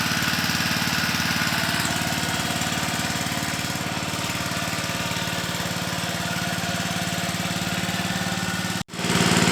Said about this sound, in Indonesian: mohon maaf kurang jelas suaranya karena ada mesin di samping saya.